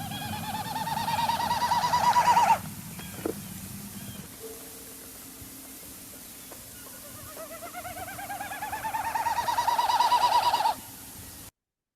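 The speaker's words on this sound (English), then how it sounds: "So that is the flight display sound of the Wilson snipe" Wilson's snipe winnowing in its flight display, its vibrating tail feathers making a hollow, pulsing whistle that rises and swells. Two separate bouts are heard, one at the start and another later, over a quiet marsh background.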